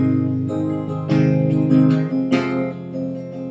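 An acoustic guitar played in an office and recorded directly through its pickup. A few strummed chords ring out close and clear, with sharp attacks and sustained notes, and no voice.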